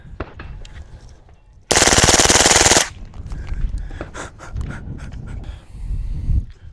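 An unsuppressed 300 Blackout rifle firing 115 grain ammunition outdoors lets off a rapid burst of shots that sounds like one loud, dense blast. Quieter movement and handling noises come before and after it.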